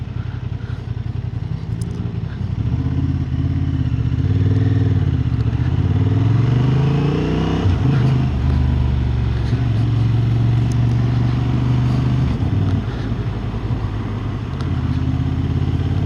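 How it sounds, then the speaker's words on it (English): A Honda Hornet 750 motorcycle engine runs close and steady, its low exhaust note rising and falling as it is revved and shifted through the lower gears, with a continuous rumble throughout and no talking. "maybe it's just me revving it up too much in first gear"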